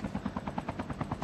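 Helicopter in the Call of Duty Mobile battle royale map, a steady rapid rotor chop thumping about eight times a second, close and constant with no talk.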